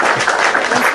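A brief burst of clapping, dense and fairly loud, continuing steadily for about a second with no voices over it.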